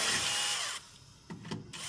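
A drill whines sharply as it bites into steel for under a second, then stops, followed by a couple of faint knocks.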